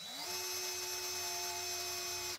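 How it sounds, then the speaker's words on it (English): A power drill running steadily with a high speed steel bit boring a hole in steel, a sustained whine rising at the start and holding an even pitch for a couple of seconds before cutting off abruptly. "These are high speed drill bits meant for steel."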